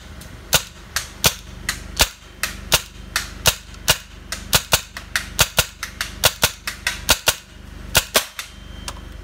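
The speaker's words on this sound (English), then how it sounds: "today we're going to be shooting Valken Redemption, testing it out on the TGR2, and yeah, let's see how it goes down range" A TGR2 airsoft gun fires Valken Redemption BBs in a long series of sharp, evenly spaced snapping shots, loud and close, with no talk.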